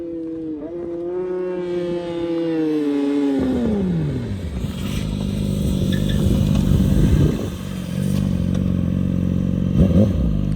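A Yamaha YZF R6 with a Tiger exhaust screams past in a high-revving flyby, its rising whine dropping in pitch as it passes, followed by rumbling, clattering engine noise nearby.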